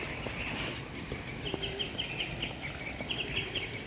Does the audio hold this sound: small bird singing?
yes